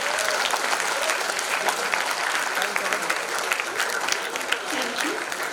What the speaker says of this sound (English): Can we please welcome our esteemed speaker with a round of applause?